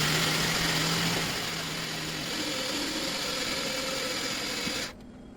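A Suzuki Vitara's engine idles and runs steadily at close range as the vehicle is driven out, a constant mid-pitched drone that drops off abruptly at the end.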